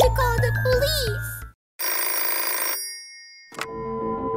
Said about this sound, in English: I have to make a phone call. I have to call the police.